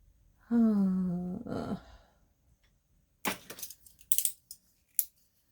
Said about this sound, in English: I'm just going to cut this out roughly so I can get the scrap out of my way.